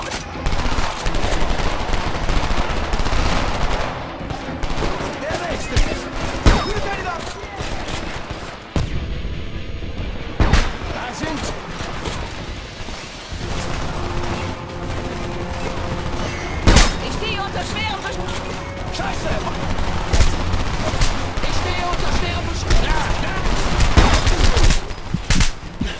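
Sustained gunfire in the Homefront shooter, rapid automatic bursts and single shots cracking close and loud over a busy battle din for nearly half a minute, with a player talking over it.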